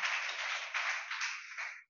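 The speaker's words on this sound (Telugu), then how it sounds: "చప్పట్లు కొడదామా?" A church congregation claps together at a Sunday service, a short burst of dense, even applause lasting under two seconds before stopping abruptly.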